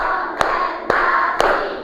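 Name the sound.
class clapping a rhythmic concentration clap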